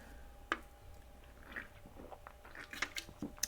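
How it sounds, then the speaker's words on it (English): Gum is chewed quietly with soft wet smacks and clicks at an irregular rhythm, close but faint, while the chewer walks. "I'm chewing gum and walking and talking"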